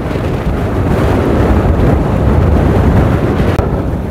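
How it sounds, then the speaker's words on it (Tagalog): Strong wind buffets the microphone during a bike ride, a loud continuous roaring rumble with gusty swells and no talk. "Lakas ng hangin."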